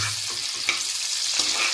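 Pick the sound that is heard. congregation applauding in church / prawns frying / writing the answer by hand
prawns frying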